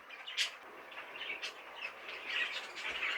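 Caged birds in an aviary chirp and squawk with short, quick calls scattered across the moment, faint and somewhat distant, with no talking.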